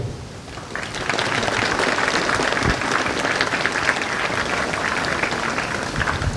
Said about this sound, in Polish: Kadeci, wielkie brawa dla waszych nauczycieli.